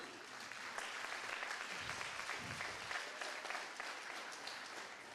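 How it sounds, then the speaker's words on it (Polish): Audience at a health seminar gives sustained applause, a steady, moderately distant wash of many hands clapping with a faint low murmur partway through. "give a round of applause for a higher reading"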